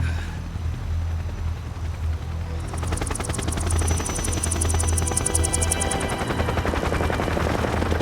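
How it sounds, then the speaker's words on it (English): A video game helicopter's rotor chop in Metal Gear Solid 3: Snake Eater grows loud and close, thudding rapidly over a steady low rumble with a high whine layered on top. "That's the helicopter to get us."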